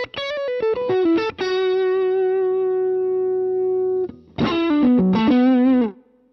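Electric guitar through stacked overdrive pedals: a run of driven notes settling into a long sustained note, a short pause, then another busy distorted phrase, loud and close with no talk.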